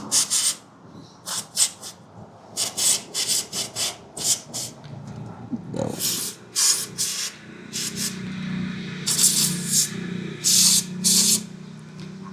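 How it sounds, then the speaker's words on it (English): Brake cleaner sprayed onto the piston area of a Royal Enfield Himalayan 411 rear brake caliper: a series of short, sharp aerosol hisses in close bursts, with quiet rubbing and handling noises between them. "Just point it towards the brake caliper where the piston is, and then just spray it."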